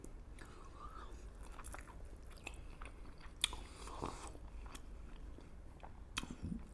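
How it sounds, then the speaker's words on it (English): Someone eating Egyptian meatballs dipped in sauce, with soft close-up chewing and a few sharper bites and crunches scattered through, quiet and intimate with no talking. "let's have a little dip at these meatballs"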